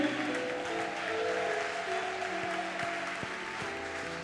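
Church congregation clapping during a worship service, a sustained wash of many hands applauding together, moderately distant, with faint voices and musical tones underneath.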